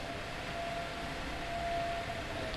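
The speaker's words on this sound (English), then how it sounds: "We hear sirens coming from all over town" Town storm sirens wail during a severe thunderstorm in Easton, Maryland. A thin, steady tone carries faintly from a distance over constant background hiss.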